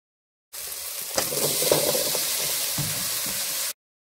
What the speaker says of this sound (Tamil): இப்போ ப்ராக்கலி போட்டுடலாம்.